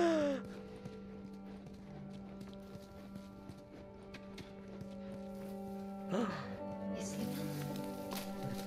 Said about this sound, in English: Beautiful long-necked horse.